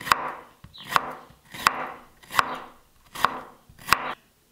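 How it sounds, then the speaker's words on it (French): A knife chops fresh turmeric root on a board, six steady cuts about a second apart, each a sharp close knock with a short scrape, with no voices. "Je continue à couper."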